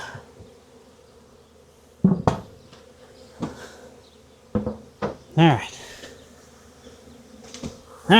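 Massive wild bee swarm around a box in a barn, steady buzzing drone throughout with sharp knocks and thuds of the box handled nearby and a voice speaking briefly.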